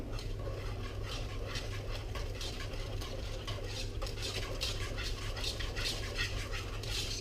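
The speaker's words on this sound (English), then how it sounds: "And now you're going to stir in the cubed 85 grams of butter." Cubed butter being stirred into a cake batter, probably with a whisk or spoon, making a steady, continuous scraping and clinking against the bowl at close range with no voices.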